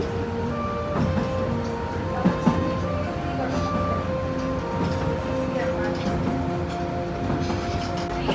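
Billimora–Waghai narrow gauge train running, a steady rolling rumble with sustained tonal whine and a couple of brief knocks from the carriage, continuous and fairly close throughout.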